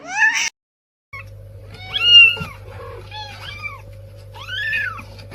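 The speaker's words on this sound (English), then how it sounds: "That's my cat." A cat meows several times in rising and falling calls, close and fairly loud over a steady low hum, with a short silent gap early on.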